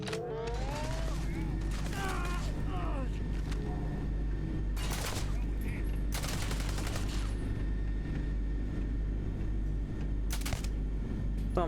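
A weapon fires in the video game Starfield in rapid bursts, with sharp sci-fi shots and booms over a constant low game drone, while a voice talks over parts of the action.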